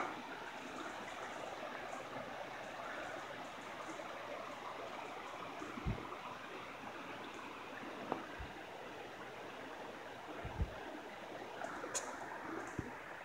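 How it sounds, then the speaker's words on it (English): Faint, steady rush of a small mountain stream below a swimming hole at Curtis Creek campground near Old Fort, North Carolina, a soft continuous wash with a few light knocks and clicks. "Here's some more of the stream. This is below the swimming hole."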